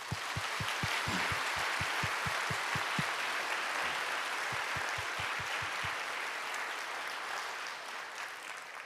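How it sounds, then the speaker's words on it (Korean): Church congregation applauding to welcome missionaries at an Easter Sunday service, a broad, steady wash of clapping with a sharp rhythmic clap pattern pulsing through it before it gradually fades. "자리에서 일어나서 인사하실 때 큰 환영의 박수를 해주시기 바랍니다."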